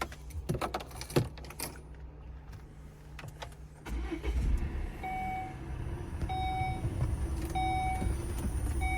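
A 2017 Volvo S60 2.0 with automatic transmission: keys jangle at the ignition, then the engine cranks and starts around the midpoint and settles into a steady close idle, with repeated short warning chimes over it.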